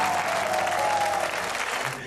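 An audience applauds a young woman, a former Miss France, with dense continuous clapping throughout, close and fairly loud.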